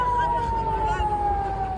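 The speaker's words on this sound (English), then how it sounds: "The sirens have gone off." A steady, high air raid siren tone wails continuously at Tel Aviv airport during rocket fire, slowly dropping in pitch, over a low rumble of background noise and murmuring voices.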